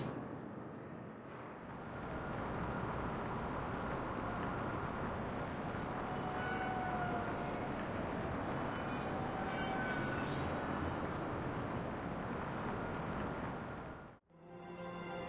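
Steady low rumbling hum of an elevator ride in Mass Effect 3, continuous and fairly loud for most of the stretch, with faint tonal whines drifting over it before cutting off abruptly near the end.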